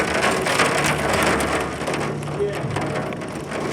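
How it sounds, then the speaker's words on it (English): Hail falls during a rainstorm in Williston, North Dakota, a dense continuous patter and crackle of hard stones hitting surfaces, steady and fairly close. "Why is it hailing?"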